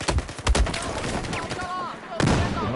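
P90 submachine gun fire in Battlefield 4 on PS4: a few sharp bursts of shots early on and another near the end, with game effects and faint voice between.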